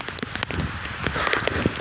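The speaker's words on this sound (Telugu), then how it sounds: "ఇగో వర్షం పడుతుంది" Steady rain falls with a continuous hiss and scattered nearby drips and taps, loud and unbroken.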